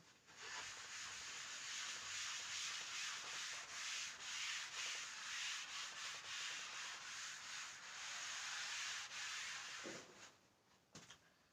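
Someone rubbing out a written math solution, a steady dry scrubbing and brushing that runs for about ten seconds, close and fairly quiet, then trails off in a few short strokes.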